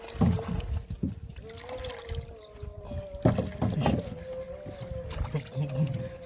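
A small rowboat setting out on a river in the Sundarbans, with water sloshing and knocking against the hull and a steady low engine-like drone, while people talk nearby.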